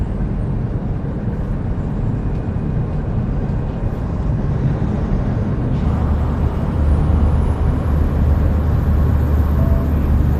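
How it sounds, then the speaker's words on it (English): Truck engine droning loudly and steadily at high RPM inside the cab, a dense low rumble throughout with a high whine rising in the second half. "RPM's getting a little high there. Let's ease that down a bit."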